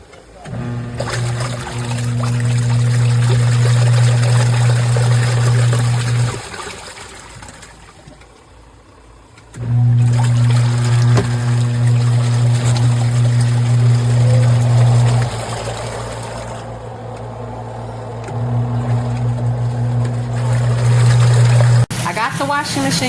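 An Auertech 28 lb portable twin tub washing machine set up in a kitchen churns water in cycles, a humming motor with sloshing that pauses twice and then resumes, while a person talks over it.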